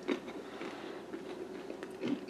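Close-up crunching as a crisp oatmeal biscuit is bitten and chewed, a few distinct crackly bites over a couple of seconds, fairly quiet.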